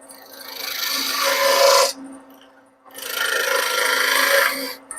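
A tool scrapes into a wooden spindle turning on a lathe, cutting V-notches, making two long, loud, broad rasping passes separated by a brief pause, close up and with no speech.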